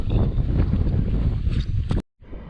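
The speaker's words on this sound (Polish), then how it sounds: "Ale wietrzysko, no coś strasznego" Strong wind buffets the microphone on the bank of a dry stretch of the Vistula river, a loud, continuous low roar with gusts that cuts out abruptly near the end before a quieter rumble returns.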